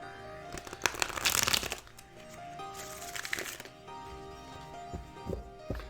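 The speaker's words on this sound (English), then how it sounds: "I'm just going to give these cards a really good shuffle." A deck of playing cards gets a vigorous shuffle: two or three quick riffling bursts of flicking cards, close up and crisp, followed by softer handling.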